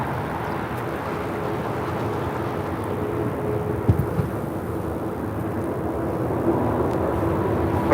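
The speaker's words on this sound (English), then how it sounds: "got that Dreamliner now rolling down" A Boeing 787 Dreamliner rolls down runway 25 right at LAX, a broad distant rumble of jet engines that swells gradually and stays low and continuous, with a couple of faint thumps and no speech.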